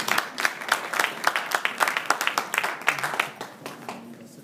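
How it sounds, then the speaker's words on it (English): A crowd claps steadily in sustained applause at a CSW 57th Session gathering, gradually thinning out toward the end. "another round of applause to Olisandekida"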